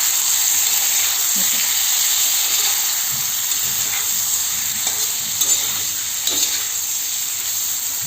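Pieces of wam fish, an eel, fry and sizzle in a pan, a loud steady hiss close by with a few soft scrapes and knocks as they are flipped.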